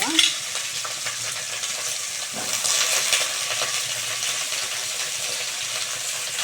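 Large pieces of eggplant fry in a pan for masala sambar with drumstick, with a loud, steady close-up sizzle that starts with a sharp burst as they go in and then settles into a continuous hiss while being stirred.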